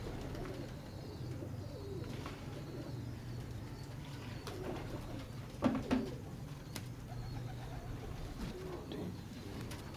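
Soft cooing of golden-white pigeons over a steady low background hum, with a brief louder rustle or flutter in the middle.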